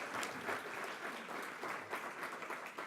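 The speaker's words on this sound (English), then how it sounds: "So give yourselves a round of applause." Steady applause from a community meeting audience, a soft, even patter of many hands clapping throughout, heard from a distance.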